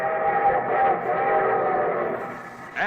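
A train sound effect opens a radio show: a sustained, chord-like train whistle sounds fairly loud and steady, then cuts off near the end.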